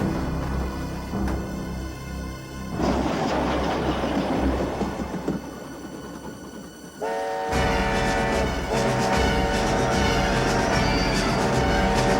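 A train rumbles past with a loud horn blast near the end, steady rolling noise throughout and a sharp rise in volume as it sounds.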